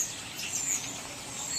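Many birds call from trees outside a house, with high, thin chirps and tweets scattered over a soft, steady background hiss at a moderate distance.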